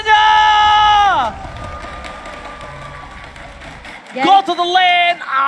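At an MPL Indonesia Season 11 Mobile Legends esports arena, a crowd applauds and cheers in a loud, broad wash that follows a bright tonal stinger, with another musical burst cutting in near the end.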